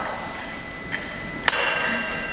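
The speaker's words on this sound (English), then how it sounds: "which will be signified by a bell" A single bell strike at a debate, rung to mark speech timing, sounds once with a sharp attack and a long ringing tone that sustains over quiet room noise.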